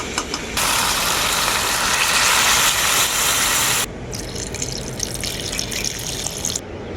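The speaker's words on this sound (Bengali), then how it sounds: "এখন আমি এর মধ্যে দিয়ে দেবো পরিমাণ মতো জল" Water pours steadily into a pot of braised goat meat curry, a broad splashing rush that starts loud, then drops to a thinner trickle partway through, with no talking.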